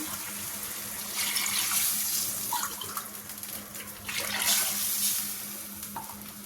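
Water pours into a pot of soaked rice for tomato rice, a steady splashing stream that swells twice, close and fairly loud, with no talking.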